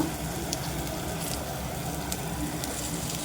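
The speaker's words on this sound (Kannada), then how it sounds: "ಈರುಳ್ಳಿ ಸೇರಿಸ್ಕೊಂಡು ಚೆನ್ನಾಗಿ ಫ್ರೈ ಇದ್ದೀನಿ" Onions sizzle in a hot pan with dried red chillies, garlic and curry leaves, a steady crackling fry with no talk, with faint low rumble underneath.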